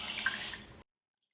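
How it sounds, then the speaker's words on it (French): Running water rinses paintbrushes in a pot for under a second, a close splashing rush that cuts off abruptly into silence. "Je rince."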